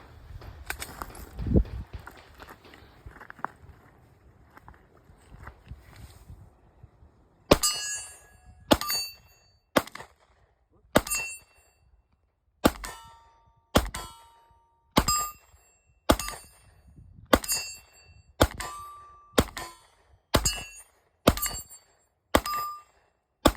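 Pistol shots ringing off steel targets in a steady string of about a dozen evenly spaced metallic pings and cracks, each with a bright ringing decay, after a stretch of muffled handling noise.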